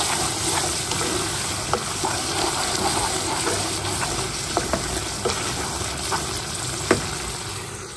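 Spices sautéing in a pan for mutton tehari, a steady loud sizzle with occasional sharp clicks and taps of a utensil stirring, close and continuous for the whole stretch.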